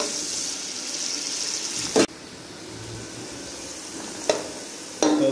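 Onions frying in a pan until light brown, giving a continuous close sizzle broken by a few sharp clicks and scrapes of the spoon.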